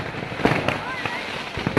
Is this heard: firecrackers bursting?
yes